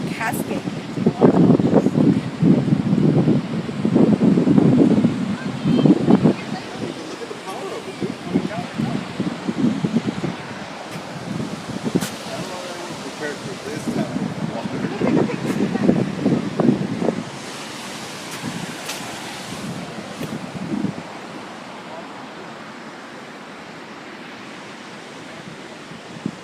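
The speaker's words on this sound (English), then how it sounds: "It's just water flowing like a cascade." Rushing water cascading outdoors after rain, with wind gusting across the microphone; a steady broadband wash swells and eases for about seventeen seconds, then quiets to a softer, lighter flow.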